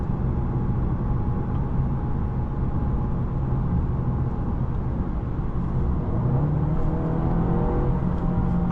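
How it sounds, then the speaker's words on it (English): A 2025 Mercedes-Benz CLA 250 picks up speed, a steady, loud road and engine drone from inside the cabin with a gently rising engine tone near the end. "It's a little lurchy whenever it picks up speed right when you put your foot down."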